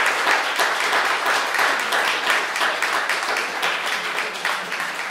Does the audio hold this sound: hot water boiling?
no